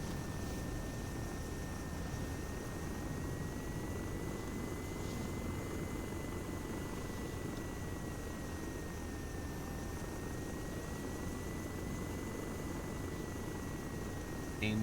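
An aircraft engine climbs in a military flight simulation game, a steady droning hum with a faint whine that holds evenly throughout at moderate level.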